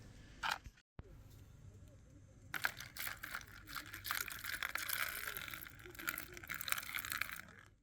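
Water poured outdoors for a sick stray cat on the windy Tarkhankut coast in Crimea; a steady rushing, splashing noise builds after a short pause and carries on loud and continuous to the end.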